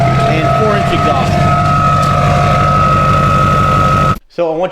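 A Duramax 2500 HD pickup truck with a four-inch exhaust idles loud and close, a steady diesel drone with a high whistling tone, then cuts off abruptly as a voice begins near the end.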